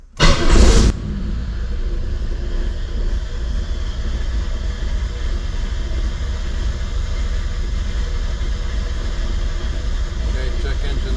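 A car on Project Oddball cranks with a short loud burst and fires up, then settles into a steady, close, rumbling idle that continues unbroken to the end.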